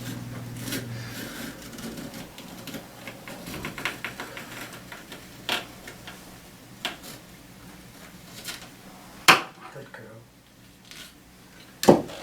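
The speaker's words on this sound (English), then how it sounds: "We're going to just use a very sharp utility knife, and we're going to cut right along the surgical tubing." Scraping, rasping cuts with sharp clicks and taps as a sharp utility knife works through a hard wrist cast along embedded surgical tubing, loudest in a few bursts near the end.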